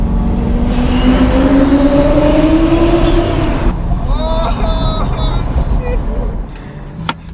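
A 2000-horsepower Lamborghini running on race fuel accelerates; its engine drone climbs steadily in pitch for several seconds, then drops back to a softer cabin hum with faint tonal chirps.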